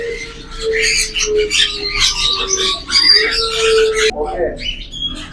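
Caged birds in a shop selling fancy and imported birds, including plum-headed parakeets, making dense overlapping chirps, squawks and calls, close and loud throughout, with a sharper burst near the end.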